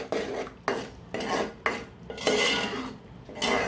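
A spoon scrapes and stirs tomato, onion and fish curry ingredients in a metal pan, with rhythmic rasping strokes and clinks repeating every half second or so, close and clear.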